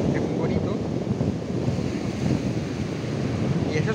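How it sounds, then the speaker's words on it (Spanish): Waves and wind at a nudist beach at Torre de la Sal in Cabanes on the Mediterranean coast of Spain, heard as a loud, constant broadband roar of surf with wind buffeting the microphone. "Y eso es la playa."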